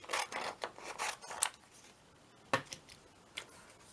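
Scissors snipping a small piece of pink paper for an origami cupcake paperclip: a cluster of quick crisp cuts, then a pause and a few more isolated snips, close and quiet with no talking.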